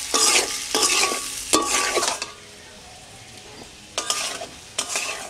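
Amla pickle spices fry and get stirred in a pan for a village-style sweet-sour-spicy pickle. Bursts of scraping, sizzling stirring stand close and clear, with a quieter pause before two more strokes.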